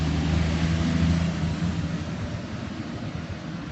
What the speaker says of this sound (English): Let the truck go past.